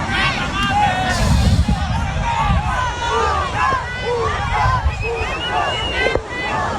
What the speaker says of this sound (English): People cheering this nonsense on.